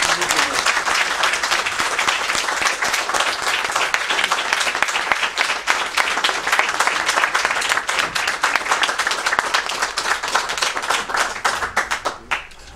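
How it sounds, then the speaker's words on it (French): Enthusiastic audience applause for a professor at a talk on hip-hop and African historical consciousness, loud, dense clapping with crisp individual claps sustained for over ten seconds before tapering off at the end. "je vous demande un tonnerre d'applaudissements pour le professeur"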